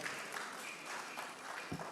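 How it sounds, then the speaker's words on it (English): Audience applause at a book launch, a steady broadband wash of many hands clapping together for about two seconds at moderate volume, with no voices breaking through. "Let's welcome him with a big round of applause."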